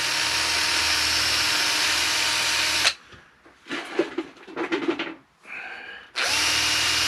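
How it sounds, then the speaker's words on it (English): A power drill drills a pilot hole in metal for a motorcycle speedometer bracket, whining steadily at high speed, stops, then a few short grinding bursts and quieter pauses follow before the drill spins up loud again. "First off, we're going to start by drilling a pilot hole."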